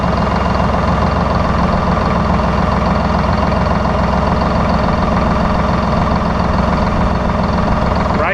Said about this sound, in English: we're going to slowly drive the tractor into the framework